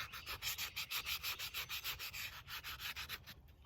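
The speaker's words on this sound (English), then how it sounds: "And I'm going to sand whatever I want to sand." A wooden fairy house piece sanded by hand outdoors, with steady rhythmic rasping strokes of about five per second, close and clear, with no voices.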